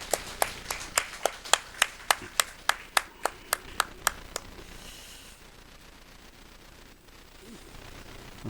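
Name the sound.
congregation clapping at Sunday church service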